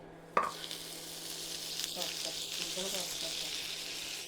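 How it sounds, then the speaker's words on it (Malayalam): Butter dropped into a hot pan before chicken is added, starting with a sharp clatter and then a soft, steady sizzle of melting butter with faint stirring, quiet and close. "ഇനി ബട്ടർ ഇട്ട് കൊടുക്കട്ടോ"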